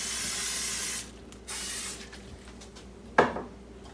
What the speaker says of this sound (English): First thing I'm going to do is spray my liner of my Instant Pot.